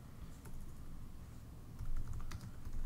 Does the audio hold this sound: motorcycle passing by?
no